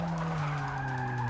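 A race car in Forza Motorsport 6 squeals its tires under hard braking, a loud sustained skid over a steady engine tone, heard alone.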